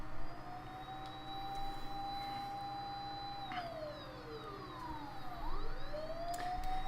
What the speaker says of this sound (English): Apparently they weren't too far off, as a siren approaches in no time.